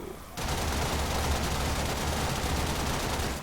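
MK1 Braton assault rifle in Warframe firing a full 60-round magazine on continuous automatic, a dense unbroken rattle of loud rapid shots lasting about three seconds after a brief quiet start.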